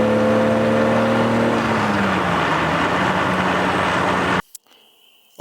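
A 40-year-old BMW E30 cruises at 75 mph, its engine a steady droning hum with road and wind noise, holding an even pitch before cutting off abruptly near the end.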